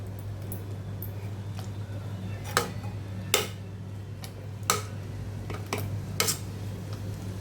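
Boiled chickpeas for street-style masala sundal being lightly mashed in a pan, giving a handful of sharp, separate utensil taps and clicks over a steady low hum.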